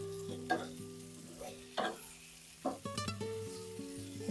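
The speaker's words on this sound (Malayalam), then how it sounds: "നമുക്ക് ഈ വെണ്ടയ്ക്ക മസാല ഒന്ന് ഇളക്കി കൊടുക്കാം." Okra masala stirred in a frying pan, soft sizzling under distinct spatula scrapes and clacks at irregular intervals, with a faint tonal background.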